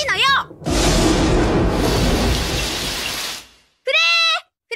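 Heavy rain pours in a Crayon Shin-chan anime scene, a loud, dense downpour hiss that swells and then fades out, bracketed by brief cartoon voices before and after.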